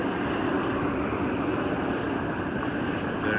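A steam vent and boiling water in Lassen National Park give off a steady, loud broadband roar and hiss, unbroken and close, with no voices.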